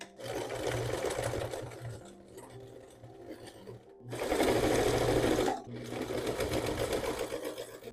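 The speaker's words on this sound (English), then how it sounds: "I think I'm gonna use a zigzag stitch for this just because it will make my life easier because this does fray." A sewing machine runs a zigzag stitch along fraying fabric on a beginner's first sewing project, whirring steadily up close in three long runs, the middle one loudest, with short pauses between them.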